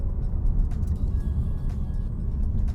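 Steady low road rumble and engine drone from inside a Cupra Ateca SUV driving along twisting roads, constant and fairly loud with no talk over it.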